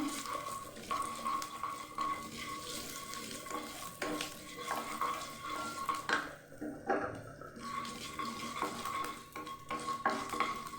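Black cumin seeds fry in a pan, a faint crackling sizzle beneath clinking of a spoon against the metal, with light stirring and scraping throughout.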